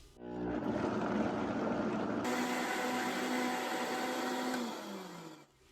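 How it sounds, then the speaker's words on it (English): A blender whirs steadily through spicy Italian sausage seasoning of cayenne, red pepper flakes and salt, revving up at the start and winding down near the end. "Blend until smooth."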